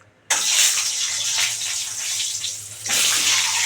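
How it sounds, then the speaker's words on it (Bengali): Egg sizzling steadily and loudly as it fries in hot oil for a Bengali egg chop curry, a dense hiss that starts abruptly and swells again near the end, with no talking. "ডিমটা আগে ভালো করে ভেজে নেব।"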